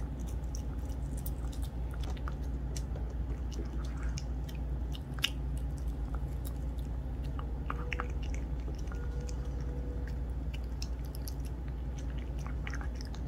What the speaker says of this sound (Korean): 이젠 몰티저스를 먹어볼게요.